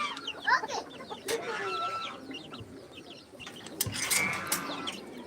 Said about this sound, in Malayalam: കോഴിക്കുഞ്ഞ് കോഴിക്കുഞ്ഞിതാ പാറയ്ക്ക് മേലിലേക്ക് തന്നെ കുത്തിരിക്കുന്നവാ